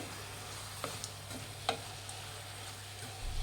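Onions fry in a pan for heralekayi chitranna, a steady soft sizzle with occasional light scraping taps of a spoon stirring them, close and fairly quiet.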